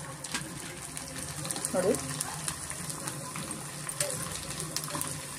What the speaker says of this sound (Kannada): ಎಣ್ಣೆ ಚೆನ್ನಾಗಿ ಕಾದಿದೆ. ನಾವು ಸಂಡಿಗೆ ಹಾಕೋಣ ಈಗ.